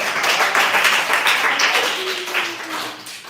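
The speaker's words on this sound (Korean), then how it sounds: "우리 시험 끝난 친구들을 위해서 수고했다고 박수 한번." A youth group at a church service applauds students who have finished exams, a lively, fairly loud burst of many hands clapping close by that tapers off slightly toward the end, with faint voices mixed in.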